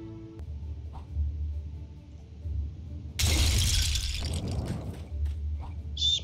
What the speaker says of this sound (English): looks like we're smashing our way in through the roof then